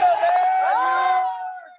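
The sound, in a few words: spectators cheering as hostage convoy arrives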